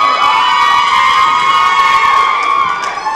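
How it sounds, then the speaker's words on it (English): A wrestling crowd cheering and shouting, a dense, loud wall of voices with high-pitched whoops and children's shouts that holds steady throughout. "Well, Dunn trying to get the crowd fired up. And it's working for a good hunk of it."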